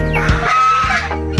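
A chicken clucking close by, a few short loud clucks and squawks in a brief burst with no talking over it.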